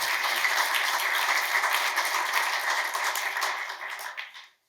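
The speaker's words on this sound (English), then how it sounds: "So, big round of applause for Alfred." An audience at a business event on supplier inclusion and diversity applauds a speaker, dense steady clapping that fades out at the end.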